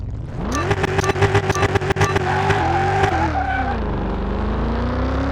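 A C8 Corvette in Car Mechanic Simulator 2021 launches on a quarter-mile run, its engine revving loudly and climbing through rapid gear changes before easing off into a steady lower drone.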